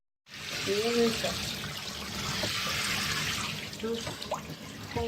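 Water runs steadily into a bathtub to fill a bath, a continuous hissing splash that holds for several seconds, with a few faint voice-like tones drifting over it.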